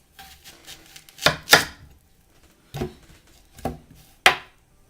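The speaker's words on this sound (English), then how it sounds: "And then we will chop it in half." A knife chopping a carrot on a cutting board, about five separate firm thuds spaced irregularly, close and clear with quiet gaps between them.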